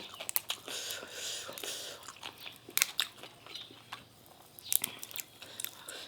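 Close, crisp biting and crunching of green papaya salad (tam bak hung), with irregular chewing bursts and soft whispery mouth sounds at low volume, a few sharper crunches standing out.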